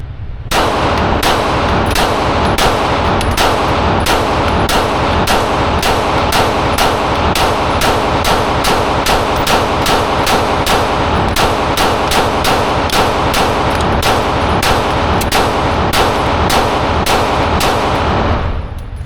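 Rapid firearm shots from SRTs and fully automatic ARP rifles plus a Glock, a dense, loud, sustained string of sharp cracks at a fast steady rate, heard close with no speech.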